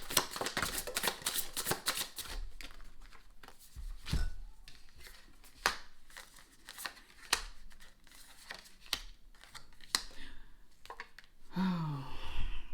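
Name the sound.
shuffling tarot cards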